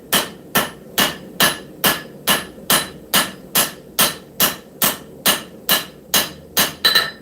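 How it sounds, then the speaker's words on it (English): A doghead hammer forging metal on an anvil: loud, close, evenly spaced ringing strikes, about fifteen blows at a steady two-per-second pace, with no talking. "Yes, Doug, doghead hammers do take a little bit to get used to."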